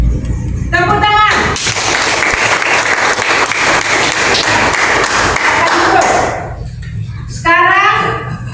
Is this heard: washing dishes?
no